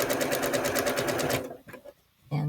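A sewing machine stitches quilt pieces in a fast, even run of close, clattering stitches, then stops, followed by brief handling sounds and a short hum.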